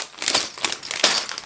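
Plastic bags from a Lego set crinkle and rustle as they are handled and opened, a dense close-up burst of crackly crumpling in quick bursts.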